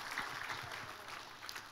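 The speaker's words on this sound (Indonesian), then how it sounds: "Kita kasih tepuk tangan yang paling meriah buat Tuhan kita" Church congregation clapping in praise during a sermon; a soft, distant wash of steady applause filling the room without pause.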